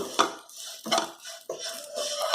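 Garam masala and chili powder are roasted over low heat for bhogichi bhaji and stirred with a metal spoon, producing three or four distinct scraping clatters against the pan, close and moderately loud.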